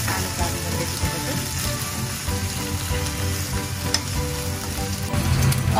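Spices fry for chicken biryani in a pan over low gas, giving a steady close sizzle and crackle with occasional stirring scrapes throughout.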